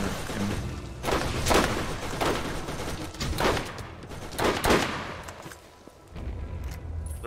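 A rocket launcher fires repeatedly in the Borderlands video game, loud booming blasts spaced about a second apart with crackling gunfire between them.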